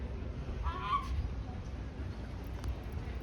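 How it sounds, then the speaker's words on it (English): A baby seagull gives a short honking call near the start, fairly close against a low background rumble. "Look at the baby seagull"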